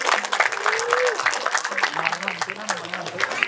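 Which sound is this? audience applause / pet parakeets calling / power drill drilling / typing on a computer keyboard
audience applause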